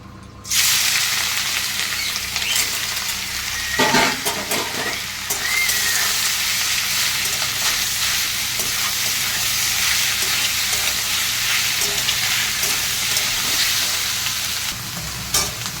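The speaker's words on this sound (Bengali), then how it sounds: "মাশরুমগুলো দেখুন আমার ভাজা ভাজা হয়ে গেছে" Mushrooms sizzle steadily in hot oil in a wok, a loud, dense frying hiss that runs throughout with a few brief stirring scrapes and no talking.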